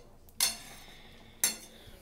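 Two sharp metallic clinks of a spoon against the pan while stirring dab fulkopi, a cauliflower curry cooked with tender coconut, sound about a second apart over a faint background simmer.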